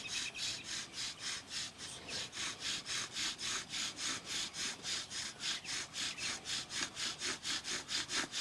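A wooden bow drill spindle rubs against a wooden hearth board in fast, even back-and-forth strokes, about two or three per second, with a rasping, sawing texture that keeps going alone and fairly close.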